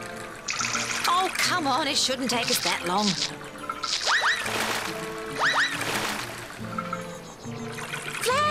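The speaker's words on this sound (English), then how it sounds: "We'll have to empty the water by hand into the bath." Cartoon water is scooped by hand and emptied into a bath, with repeated pouring, trickling and splashing sounds under animated voices talking.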